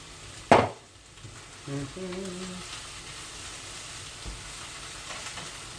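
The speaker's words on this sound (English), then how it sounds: "those mushrooms are cooking away in there, along with their friendly shallots" Mushrooms and shallots frying in a pan give off a steady soft sizzle, broken early by a sharp clatter and a short tonal beep, then settling back to a continuous gentle hiss.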